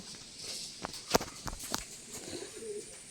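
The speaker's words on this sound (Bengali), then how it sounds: "এই যে সব পায়রা।" Giribaz pigeons in a loft coo softly and irregularly, with a few sharp taps and wing or foot shuffles nearby against a quiet outdoor background.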